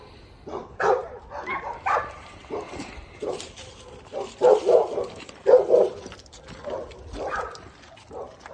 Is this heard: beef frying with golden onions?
no